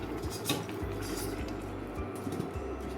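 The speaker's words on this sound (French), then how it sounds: "Et voilà, maintenant on va couvrir." A lentil tajine pot being covered with its lid, giving a few close clinks and knocks of the cookware over a steady low cooking hiss.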